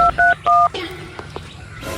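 A mobile phone dials a call with a quick series of loud electronic keypad tones, followed by faint clicks and low background noise.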